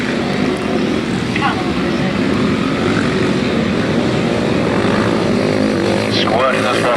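Grasstrack racing motorcycle revving hard out of a turn on a very wet, slippery track, a loud continuous engine drone with rising pitch sweeps, steady and close beneath a commentator's voice.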